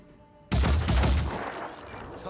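Gunfire in the video game Phoenix Point aimed at an enemy's arm: a loud, close burst of shots erupts suddenly after a quiet moment, then rolls on and decays with a rough, booming tail.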